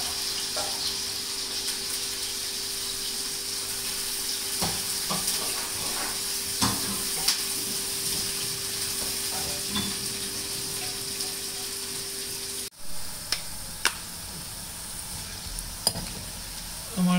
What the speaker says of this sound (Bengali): আমার পেঁয়াজ ভাজা অলমোস্ট হয়ে গেছে